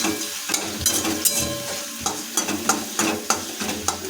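A spice paste frying in oil in a wok is stirred vigorously, with a continuous sizzle broken by a quick run of sharp scraping strokes of the spoon against the pan, close and clear with no talk.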